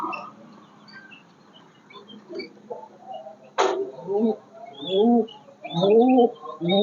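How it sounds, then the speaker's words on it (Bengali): Pigeons kept on a rooftop coo in soft, low, rounded bursts that grow louder and more frequent toward the end, with a brief sharp noise midway over a quiet background. "দেখতে পাচ্ছেন আমার কবুতরগুলা।"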